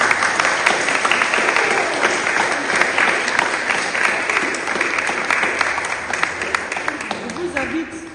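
A church congregation claps together during a Sunday Protestant service in Mietesheim, welcoming a newly baptised girl; steady, dense applause fills the room throughout and tapers slightly near the end.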